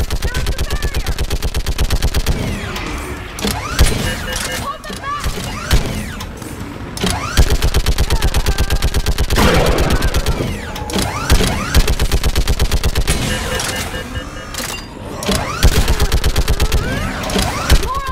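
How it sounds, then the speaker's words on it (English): A mounted gun fires in the video game Mass Effect 3, a loud, relentless stream of rapid shots running nearly the whole time with brief pauses, mixed with mechanical clanks and battle noise. "Get on that gun up there and do some damage!"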